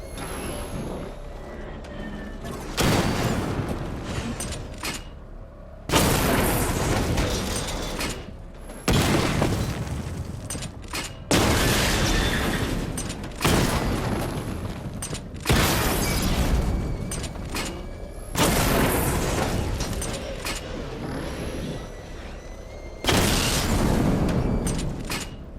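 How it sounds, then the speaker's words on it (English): Missile barrage explosions from the Batmobile in the video game Batman: Arkham Knight, a rapid series of loud booming blasts roughly every two to three seconds, each followed by a rumbling decay across the whole stretch. "Charge the missile barrage to level 2 to destroy up to 4 targets at once."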